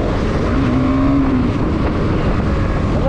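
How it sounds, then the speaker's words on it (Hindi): A dirt bike engine drones steadily and loudly up close while riding, a continuous motor hum with a brief pitch rise midway and no talk. "मतलब डर्ट बाइक है बंदे के पास"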